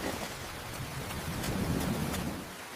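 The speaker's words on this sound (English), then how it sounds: "Uh-oh, it's gonna rain." Steady rain hisses down at a picnic area while low thunder rumbles underneath, rising and fading across the whole stretch.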